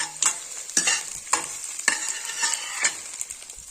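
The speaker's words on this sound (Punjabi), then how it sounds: "ਇਸ ਸਾਈਡ ਮਸਾਲਾ ਤੇ ਇਸ ਸਾਈਡ ਪਿਆਜ਼ ਭੁੰਨੇ ਜਾ ਰਹੇ" Onions and masala fry in a hot pan with a constant sizzle. Close, rhythmic stirring scrapes recur about every half second, with no talk over them.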